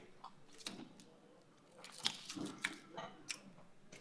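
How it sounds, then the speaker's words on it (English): Someone bites into a slice of New York-style pizza topped with crushed red pepper and Romano, giving a few soft close crunches and chewing sounds at low volume. "I know you could hear that crunch all the way to New York City."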